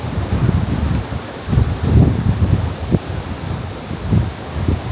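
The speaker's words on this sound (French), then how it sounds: "il y a du vent" Gusty wind buffeting the microphone at a high viewpoint on an island in Cambodia, rising and falling in low rumbling surges with no voices.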